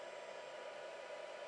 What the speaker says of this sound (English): Going to make a lot of noise now. It's like a hairdryer.